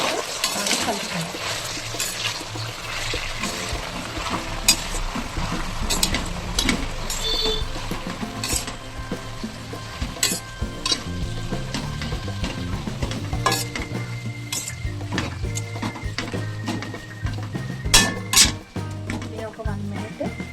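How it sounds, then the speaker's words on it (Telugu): Freshly washed mint and coriander leaves, along with curry leaves, crackle and sizzle in hot oil in a pan for a chutney, with a busy steady fry broken by clinks and scrapes of a spoon stirring, and someone talking over it. "ఇలా మొత్తం వేసి కలుపుతాను."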